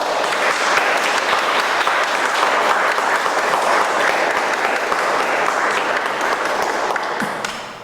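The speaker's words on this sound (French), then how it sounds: "je vous demande une bonne main d'applaudissements pour Pascal." A crowd at a church celebration at St Godefroi gives sustained, loud applause for Pascal, dense clapping that holds steady for several seconds before starting to taper off at the end.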